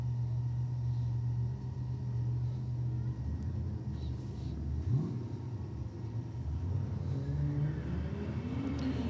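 An Audi and a VW launching side by side at a drag strip: a deep engine rumble and droning revs build, then rising whines as the cars accelerate away, heard from a distance with faint crowd noise.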